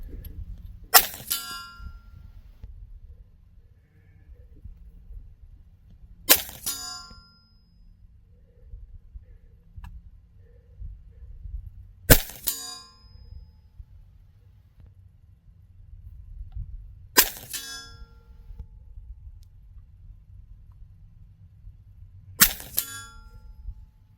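Pellets from a ViperX .30 caliber PCP air pistol strike metal targets at 50 yards: five sharp distant clangs spaced about five seconds apart over a low background hum.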